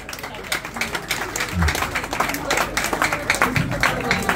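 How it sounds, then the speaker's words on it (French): Crowd applause at a celebration, irregular clapping and cheering from a gathered audience mixed with voices and bursts of noise, fairly loud and close throughout. "Il y a un bon applaudissement"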